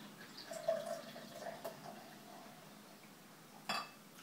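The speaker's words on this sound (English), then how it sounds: "Right, I'm going to pour some of this out." Beer poured from a bottle into a glass makes faint, quiet trickling and dripping, with a few small glassy clinks and one sharper knock near the end.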